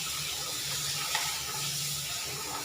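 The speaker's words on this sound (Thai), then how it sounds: "มาล้างที่ข้าวสาร" Rice being washed in water, heard as a steady soft rush and splash of running water at low volume with no voices.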